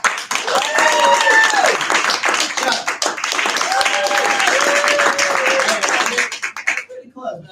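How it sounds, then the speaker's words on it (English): An audience applauds to vote between contestants, a loud, continuous burst of clapping with voices and cheers mixed in, easing off before fading out near the end. "By applause, Rachel."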